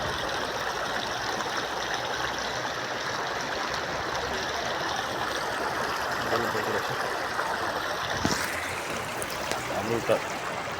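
A clear mountain stream, the Rangman Khola, rushes steadily and loudly at close range, its constant broadband flow filling the whole stretch, with a brief knock near the end.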